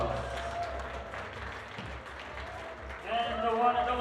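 Dense audience applause at a youth bouldering finals in Graz fills the hall steadily, with an announcer's voice rising over it near the end.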